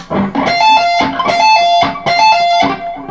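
Quick, bright electric guitar notes picked in a repeating string-skipping arpeggio pattern, with hammered and pulled notes ringing in short, rhythmic bursts.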